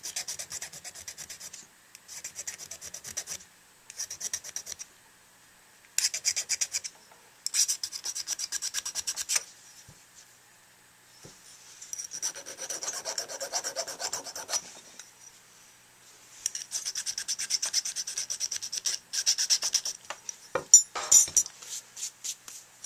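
Rough hand files work the interior of a handmade tenor sax mouthpiece in repeated bursts of dry, rasping strokes, some quick and choppy, some longer sustained passes, separated by short quiet pauses, close and clear with no talking.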